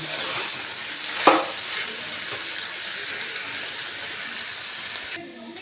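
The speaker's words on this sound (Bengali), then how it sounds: "এরপরে আমি আমার আন্দাজ মতন আমি সামান্য জল দিয়ে দিচ্ছি" Water is poured into spices frying in a pan, giving a sharp burst of sizzling followed by steady crackling and hissing as the mixture is stirred, close and fairly loud.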